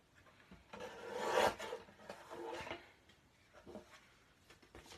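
A paper trimmer slices an inch off a card base, giving a brief soft rasping slide of the blade through cardstock, quiet and close, with a few faint scrapes after.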